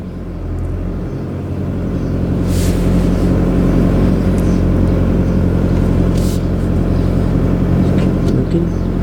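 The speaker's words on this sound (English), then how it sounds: "we'll start moving very slowly backwards, using a nice tight clutch control" A learner's car rolls slowly backwards under tight clutch control, its engine a steady low rumble that stays close and even throughout, with no voices over it.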